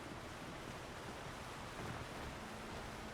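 River water flowing in Alan Wake, a steady broadband rushing wash, moderately faint and continuous, with no voices over it.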